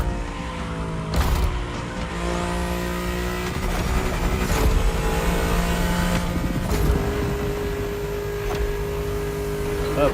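A car engine in The Crew Motorfest racing game revs and shifts through gears, loud and close, with steady rising and falling engine tones over road noise.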